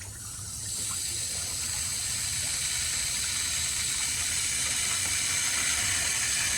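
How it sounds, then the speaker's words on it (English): Water hose flushing coolant out through the engine's thermostat housing hole, a steady loud rushing hiss of spraying water that builds in the first second and holds constant. "we're getting all the coolant flushed out from the thermostat hole"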